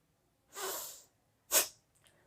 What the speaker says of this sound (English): inhale deeply, then exhale forcefully.